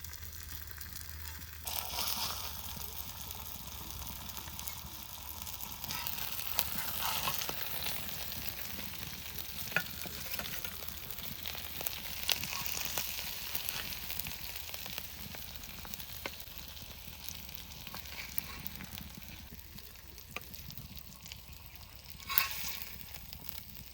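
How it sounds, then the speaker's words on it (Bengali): Ajay river fish frying on a tawa, a long, steady sizzle and crackle of oil close by, with occasional scraping and clatter as pieces are moved. "এই মাছগুলো সুন্দর করে ভেজে নিয়েছি এবার তুলে নেবো"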